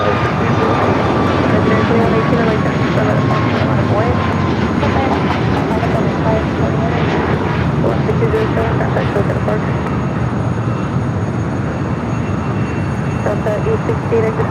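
A jet airliner roars down runway 25 Right at LAX on takeoff, a loud, continuous broadband rumble that holds steady throughout, with radio voices faintly beneath it.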